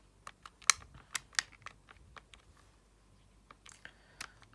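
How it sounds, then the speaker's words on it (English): Quick, irregular bursts of button presses on a calculator keypad, entering a string of numbers for a maths calculation, close and fairly faint, with short pauses between clusters of taps and no voice. "you type that into your calculator and round it to 4SF"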